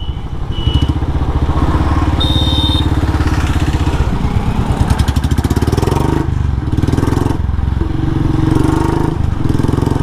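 A superbike engine revs hard during an impromptu street race against a Domino's delivery rider, a loud, close, sustained roar with rising and falling throttle pulls and some clatter running the whole time.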